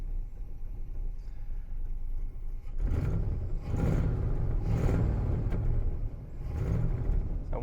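A 1966 Lincoln Continental engine, started for the first time in over a decade and running poorly, idles with a low rumble, then surges in several rough revs before settling back, heard close with no talk.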